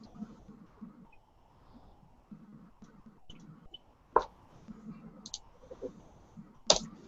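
Six dice rolled for a tabletop game check land with a few sharp clattering clicks, the loudest two coming late, over a quiet room hum.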